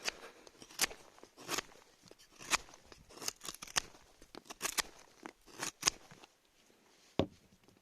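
A Yakut knife shaves wood in short, crisp scrapes, a dozen or so irregular strokes close up, with quiet pauses between them.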